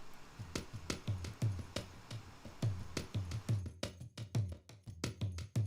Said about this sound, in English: we have this really interesting drum loop that I used for the bridge and